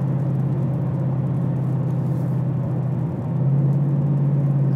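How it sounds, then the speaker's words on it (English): A 2021 Ford Mustang Mach 1 V8 with its exhaust in track mode and an H-pipe gives a steady, deep, rumbling idle tone, close and loud. It dips briefly near the end, then settles slightly louder. "Switch the exhaust to track mode. A little bit deeper, you hear that H-pipe, that nice deep muscle car tone."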